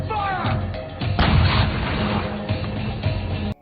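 Cannon fire in a crown prince's assault on rebels, heard as a dense, loud barrage of booming blasts and crashes running continuously for several seconds before cutting off abruptly.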